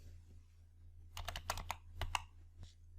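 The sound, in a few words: typing on computer keyboard in Excel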